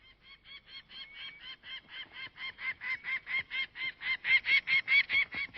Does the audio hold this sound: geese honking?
yes